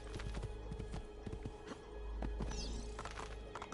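Horse hooves clip-clopping in Assassin's Creed 2, a steady rhythmic trot with a brief whinny, close and clear over game ambience and music.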